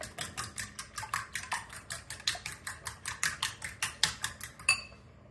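Eggs are beaten briskly in a bowl for a Jaffna-style omelette, a fast regular clatter of utensil strikes against the bowl, about four per second, stopping abruptly at the end.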